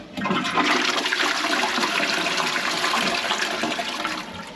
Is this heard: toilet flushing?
yes